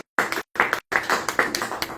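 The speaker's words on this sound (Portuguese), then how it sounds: "Aplauda o Senhor." A church congregation claps in praise, close and loud, in a few short bursts broken by brief silences before the clapping runs on steadily.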